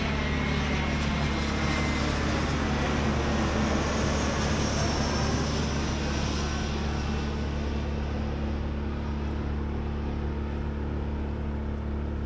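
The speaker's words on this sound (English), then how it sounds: "There's a plane flying over me about every couple of minutes." Airplane passing overhead near LaGuardia Airport, heard from a small 21-foot sailboat on the water in New York City: a steady, broad engine roar that holds loud throughout, with no talking.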